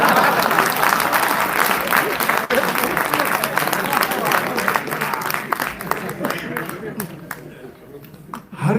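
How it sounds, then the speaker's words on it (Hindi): Audience applause at a Hindi poetry recital, loud continuous clapping with crowd noise and some voices, gradually thinning out near the end. "अब आपकी तालियां रुकेंगी नहीं"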